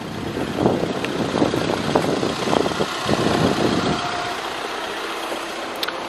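A car engine idles with the bonnet open at a used car dealer, a steady low rumbling churn up close that thins out in the last couple of seconds, with no talk.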